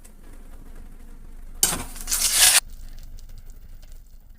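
Whole cumin and boiled taro and potato hit hot oil in a sudden loud, crackling sizzle that lasts about a second before dropping back to a quieter background.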